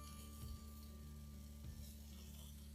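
Bacon frying in a pan while a sausage casserole is being made, a steady close sizzle with faint stirring scrapes and a low hum underneath, no talking.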